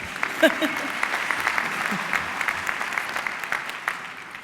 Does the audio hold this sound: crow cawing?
no